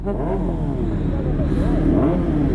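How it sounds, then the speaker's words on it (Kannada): A Kawasaki Ninja ZX6R motorcycle exhaust revs on a Sunday group ride, a loud throbbing engine note rising and falling up close while people talk over it. "ಸ್ವಲ್ಪ ಅವ್ರಿಗೂ ಒಂದು ಎಕ್ಸಾಸ್ಟ್ ನೋಟ್ ಕೊಟ್ಬಿಡೋಣ"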